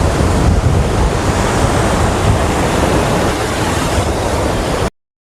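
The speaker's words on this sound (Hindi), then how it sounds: "ये देख सका था जो मेन झरना है" Pawai village waterfall roars in a loud, dense, constant rush of falling water with no voices, ending abruptly in silence.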